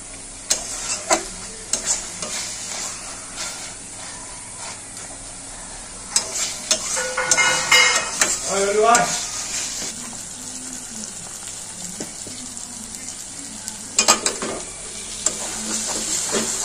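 Coconut masala being stirred and fried in a pan for a dhaba-style egg curry, with a steady close sizzle, scraping spatula strokes and a busier burst of stirring midway, no talk.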